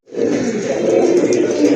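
A pigeon gives one close, loud, continuous throaty coo that lasts under two seconds.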